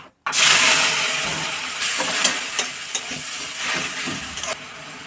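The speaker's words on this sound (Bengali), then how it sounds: "টমেটোটা একটু ভাজা ভাজা করে নিয়েছি" Tomatoes and green chillies fry in a pan, a loud sizzle bursting in abruptly and holding steady, broken by repeated scraping stirs of a spoon.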